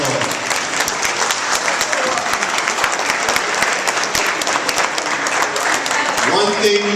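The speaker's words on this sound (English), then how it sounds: "Please give him a round of applause." Audience applause for Senator Malcolm A. Smith, loud sustained clapping from a crowd filling the whole stretch, with a voice cutting in near the end.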